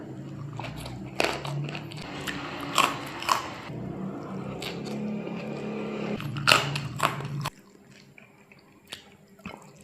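Kerupuk kemplang crackers eaten close to the microphone in an Indonesian mukbang, several sharp crunchy bites and chewing bursts with wet mouth sounds in between, tapering off into quieter chewing.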